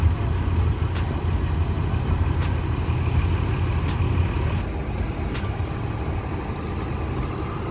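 ANS bus at the Solo bus terminal, with a steady loud engine rumble and traffic noise running throughout and sharp intermittent clanks and bangs over it.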